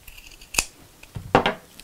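Scissors snip through craft felt for a children's dinosaur sewing project, giving several crisp close cuts in quick succession with a short pause between them and no talking.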